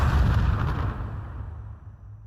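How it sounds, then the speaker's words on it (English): Moroccan siege cannons fire at dawn, one heavy deep boom decaying into a long rumbling tail that fades out, with no voices. "At dawn, Moroccan cannons opened fire."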